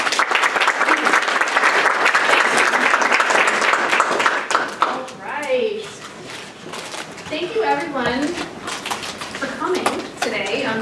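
An audience at a Penn State comparative literature luncheon bursts into loud, sustained applause welcoming a professor, fading after a few seconds as a speaker begins talking.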